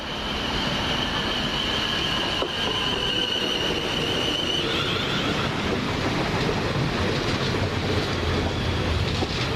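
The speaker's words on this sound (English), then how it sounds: "this is the 1032 South West train service from Portsmouth and Southsea to London Waterloo" A loud Class 450 electric passenger train rushes past close by at Hilsea, with a continuous roar, rattling wheels and a brief clickety-clack, and no talking.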